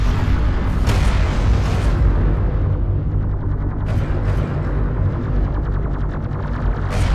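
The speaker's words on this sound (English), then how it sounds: "One of our turrets is taking fire." Dense battle din in Homeworld: Deserts of Kharak, a turret under fire: loud continuous gunfire and heavy booms, with sharp bursts standing out over a constant roar.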